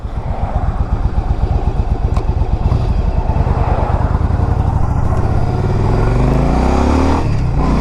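A 2007 Yamaha V Star 1100 cruiser motorcycle being ridden, its loud V-twin engine thumping close and steady throughout with a low throbbing rumble and slight shifts in pitch.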